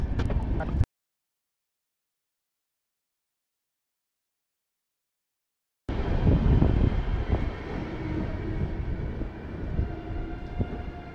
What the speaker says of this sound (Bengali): অযোধ্যা থেকে আমার ট্রেন এখন ছেড়ে দিল